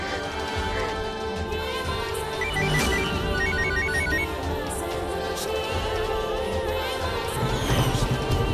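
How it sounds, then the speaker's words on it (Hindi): A telephone rings unanswered in a Hindi TV serial, a repeated electronic ringtone pattern sounding moderately under a busy background of music and ambient noise. "मेरा फोन क्यों नहीं कोई उठा रहा?"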